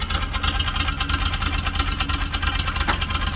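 A Land Rover Series 3 engine, poorly tuned with timing trouble, chugs steadily just after starting, a loud, close, continuous low rumble with a rough pulsing beat and no talking.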